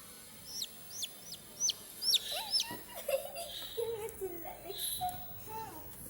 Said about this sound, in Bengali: অনেক সুন্দর একটা মুরগির বাচ্চা হয়েছে।